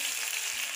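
Onion frying in a pan, a short burst of steady close sizzling hiss with no talking.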